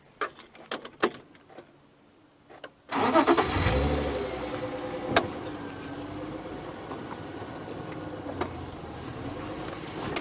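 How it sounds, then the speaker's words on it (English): A safari vehicle's engine on a sunset game drive starts up after a few faint knocks, then runs at a steady close, moderate idle while the vehicle creeps slowly forward. "Yeah, I'm just going to idle forward a tiny bit."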